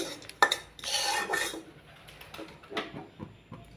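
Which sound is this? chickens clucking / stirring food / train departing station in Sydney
stirring food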